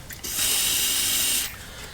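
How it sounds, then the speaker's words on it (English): Penetrating fluid is sprayed from a can onto a Mazda 3's suspension, a single close, steady hiss lasting about a second with a few faint clicks before and after. "take your penetrating fluid of choice and spray a load of that all over it"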